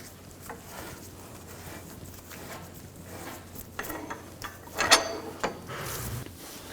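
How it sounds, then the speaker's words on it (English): A pole jack is lowered beneath a 2000-2006 BMW X5 after the front lower control arm bolt is torqued. Faint mechanical rattling and creaking build gradually, with one sharp metallic clank near the end. "Now we can lower the pole jack."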